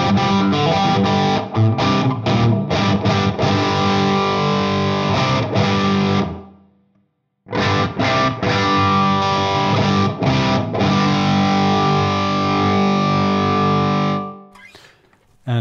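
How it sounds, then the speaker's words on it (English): An electric guitar plays through a ZUTA TRIAX distortion pedal set near fuzz, loud chugging riffs with a brief silent gap midway, ending in a cut-off decay. "get a little bit more of that pushed M style circuit, almost going into fuzz territory a little bit"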